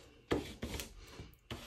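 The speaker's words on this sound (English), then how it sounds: "This is just a scraper from like the hardware store." A flexible plastic hardware-store scraper rasps across old book pages in a few short, quiet strokes with small gaps between them.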